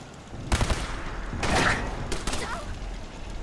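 Gunfire crackles in Fallout 4 as raiders assault Bunker Hill, with a rapid burst of shots followed by heavier bangs and thumps at close range.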